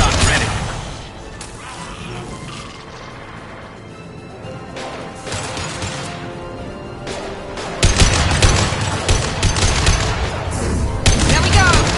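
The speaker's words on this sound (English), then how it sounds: "Concussive shot ready." A concussive shot ability fires in the Mass Effect 2 sci-fi shooter amid combat, with loud bursts and crashing impacts, a heavier blast near the end, under intermittent speech.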